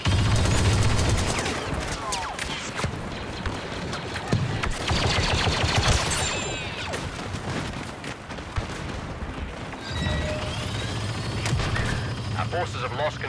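Battle gunfire from Star Wars Battlefront 2 on Geonosis in a Capital Supremacy match with clones, dense overlapping blaster volleys and bursts, loud and continuous under game voice lines.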